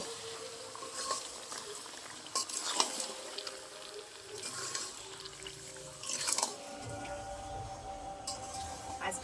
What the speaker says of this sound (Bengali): এবার আমি ভালো করে আবারও মিশিয়ে নেব।